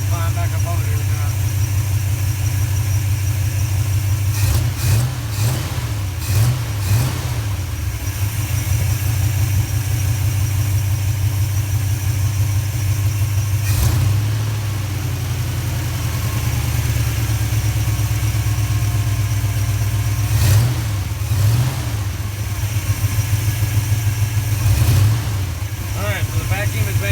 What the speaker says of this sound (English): Let's rev it a little bit and see what it does.